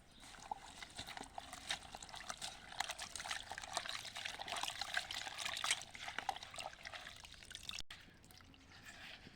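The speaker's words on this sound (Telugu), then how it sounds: "కరివేపాకు కడుక్కోవాలి." Water pours and trickles steadily while curry leaves are washed in a kitchen, a soft continuous splashing stream that fades briefly near the end.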